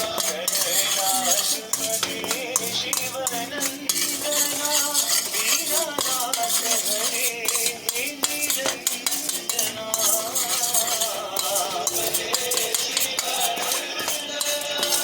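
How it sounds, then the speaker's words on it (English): A utensil stirs horse gram lentils as they dry-roast to golden brown in a pan. Steady scraping and clinking taps repeat for about fifteen seconds over a busy background. "அது மாதிரி ப்ரௌன் இந்த மாதிரி பொன்னிறமாக வறுக்கணும்."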